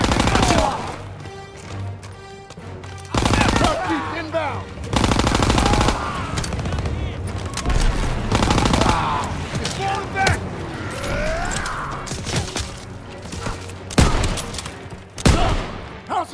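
Dense bursts of machine-gun and rifle fire in the World War II shooter Call of Duty WWII, loud and close, with rapid volleys and individual shots, sharp mechanical clicks between them, and shouted voices in the mix.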